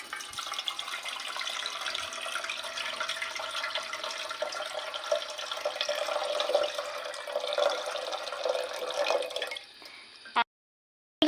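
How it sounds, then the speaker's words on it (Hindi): Water pours into a pot on the stove for making jelly, a continuous splashing, gurgling stream at moderate volume for about ten seconds before it cuts off abruptly. "100 ml मैं इसके अंदर पानी ऐड कर दूँगी"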